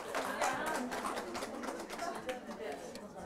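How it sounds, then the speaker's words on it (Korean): Applause from an audience at a teacher-training lecture in Seocho, Seoul: dense, steady clapping that holds at an even level for a few seconds, with voices faintly mixed in. "박수 주세요."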